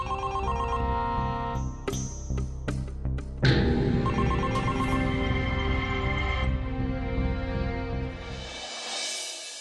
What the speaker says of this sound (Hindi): आ गया फिर से इस पागल बिल्ले का फोन।